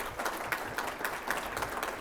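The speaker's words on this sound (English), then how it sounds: "You can give them a round of applause." Audience at a public safety summit in a SeaTac hotel applauding, a dense, fairly faint wash of clapping hands that stays even and sustained across the short stretch.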